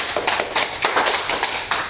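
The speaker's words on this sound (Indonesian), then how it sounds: "Tepuk tangan untuk teman kita." Classroom applause for a student after a biology presentation, a brisk patter of many hands clapping close by for about two seconds with no voices over it.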